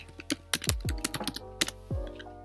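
Keys on a computer keyboard clack in a quick, uneven burst as Hello World is typed, with a dozen or so close, crisp taps and a few heavier thunks.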